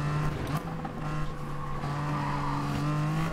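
A TVR race car in stock form, traction control off, drives at Tsukuba in a racing video game, its engine droning loud and steady under a constant pitch with faint tire noise.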